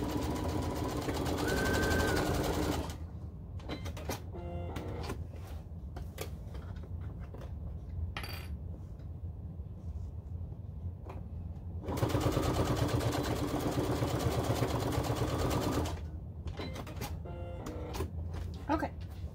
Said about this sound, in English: we're going to take this to the sewing machine. And we're going to tack it down.